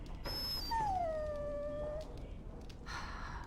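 A dog in the video game Dragon Age: Origins lets out a single drawn-out, high whimpering whine, close and clear, fading after about a second with no talk over it.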